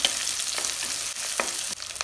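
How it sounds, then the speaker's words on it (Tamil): Onions, garlic and green chillies sauté in a hot pan for an elephant yam sambar and broad bean poriyal, giving a steady close sizzle broken by a few soft stirring scrapes and no voices. "நல்லா வதங்கட்டும்."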